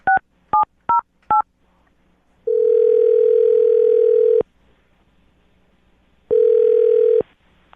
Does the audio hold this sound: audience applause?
no